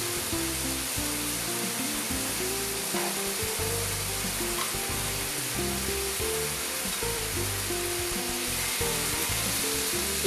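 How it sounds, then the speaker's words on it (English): Golden brown fish steak pieces fry in a hot pan, giving a steady, loud, close sizzle that runs unbroken throughout with no voices. "I'm now going to add my fish pieces."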